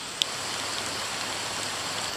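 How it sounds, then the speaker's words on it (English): Heavy rainy-season rain falls steadily in a continuous close hiss with one sharp drip or tap early on, and no voices. "the last 2 days, 2-3 days, it's raining throughout the day"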